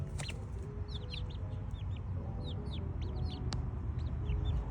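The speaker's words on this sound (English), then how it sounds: "I love my chickens" Backyard pet hens cluck and chirp softly near a coop and hoop house, short repeated calls scattered over a steady low outdoor rumble, with no talking.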